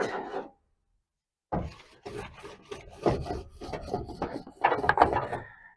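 Rasping rub strokes against the roof frame of a 1960 Chevy Biscayne, starting after a short pause and continuing as a series of close, irregular scraping passes that grow louder toward the end.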